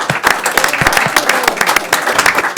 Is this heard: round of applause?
yes